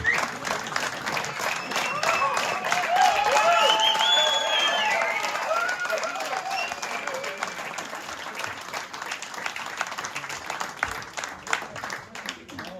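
Audience at a band concert in Ebeltoft claps steadily, a dense wash of applause that peaks early and slowly thins out, with cheers and a few whistles over it and a voice talking partway through.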